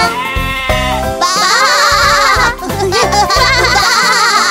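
Sheep bleating sung as part of a French children's song, repeated bouncy "baa" calls over a bright, steady musical backing; a voice imitates the sheep rather than a real animal.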